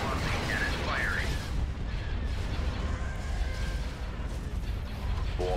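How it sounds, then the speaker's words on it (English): Hypervelocity cannon firing in the space battle game Star Wars: Imperial Civil War: a loud, steady roar of heavy booming fire with a few warbling electronic tones early on. "Hypervelocity cannon firing."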